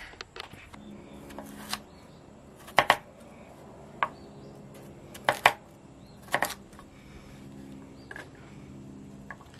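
Knife chopping sweet potato into slices about three-quarters of an inch thick on a board: a handful of sharp, separate cuts spaced a second or two apart, close and fairly quiet, with no talking.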